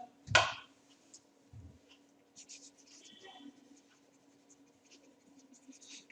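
A recommendation written by hand with a pen on paper, faint scratchy strokes after one loud opening scrape, close but quiet, with soft murmured speech in the background.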